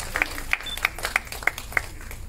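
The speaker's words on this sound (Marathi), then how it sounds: "एकदा जोरदार टाळ्या सरांसाठी झाल्या पाहिजे." Scattered claps from an audience at a Marathi film event honouring a guest, about six distinct sharp claps spread over a couple of seconds against a low room murmur.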